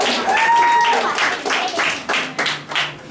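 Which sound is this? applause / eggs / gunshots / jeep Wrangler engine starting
applause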